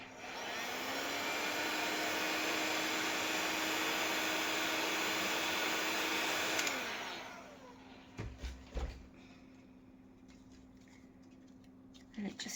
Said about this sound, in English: if it's too hard, you just heat it with your heat gun and it softens it